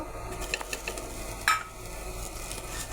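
Vermicelli and grated coconut fry in a pan with a constant soft sizzle, joined by light scraping and stirring and one sharper clink of a utensil.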